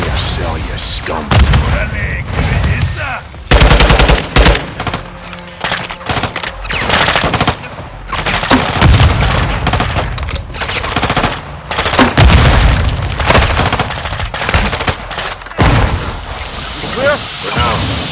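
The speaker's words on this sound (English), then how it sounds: "Turret gun in our way." Turret machine gun in Call of Duty: Modern Warfare II firing in dense bursts amid booming explosions and battle noise, loud and continuous, with voices speaking over the gunfire.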